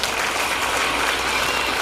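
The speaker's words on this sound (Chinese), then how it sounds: "掌声鼓励。" Audience applause at the 2020 national Hakka stir-fry cooking competition final: dense, steady clapping from a crowd, loud and continuous throughout, with no talking.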